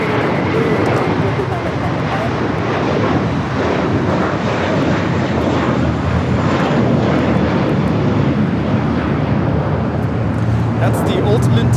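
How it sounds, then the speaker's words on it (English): JetBlue Airbus A321 taking off from the south side at Los Angeles International Airport, a loud steady jet engine roar that holds for the whole stretch and rises slightly toward the end. "JetBlue A321 now taking off here on the south side"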